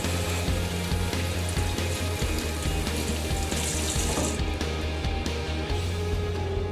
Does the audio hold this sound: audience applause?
no